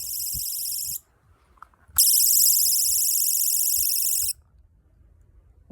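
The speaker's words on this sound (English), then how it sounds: "Okay, so it's got an alarm on it, but it was supposed to be 100 decibels." A personal security alarm emits a shrill, piercing electronic tone in two bursts, a short one and then a longer steady one of about two seconds, separated by near-silence with faint background rustle.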